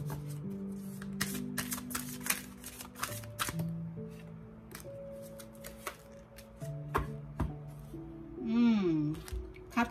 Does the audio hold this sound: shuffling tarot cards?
yes